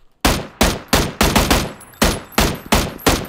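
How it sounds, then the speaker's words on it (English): An enemy player's gun in PUBG fires about ten loud, sharp shots in a quick, slightly uneven rhythm, each report close and punchy with a brief decaying tail, heard alone. "He was shooting somebody in this direction."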